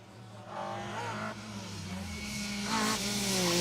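A rally car at speed on an asphalt stage during a national asphalt rally championship event, its engine note rising and shifting through gears with steady tyre roar, loud and close throughout, no talk.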